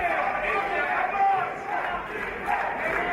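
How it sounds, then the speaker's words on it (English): Crowd at a combat sports gala in Ustroń roars and cheers continuously, a dense wall of shouting voices filling the hall, loud and sustained throughout. "This crowd really coming alive here for Tiberiusz Kowalczyk"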